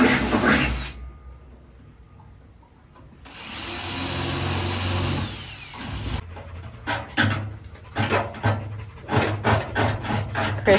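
A hand file rasps down sharp metal edges during a teardrop trailer mod, fast rhythmic back-and-forth strokes close by in the second half, preceded by a sustained noisy whir.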